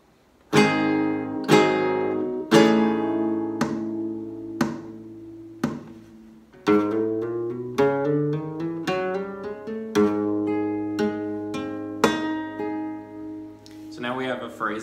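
Flamenco guitar plays a falseta fill in soleá, a string of strummed chords and plucked runs in an uneven accented rhythm, close and clear with no talk over it.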